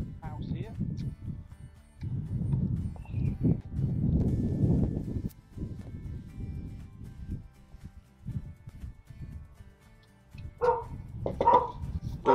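A dog barks a few times nearby, short sharp bursts mixed in with people talking.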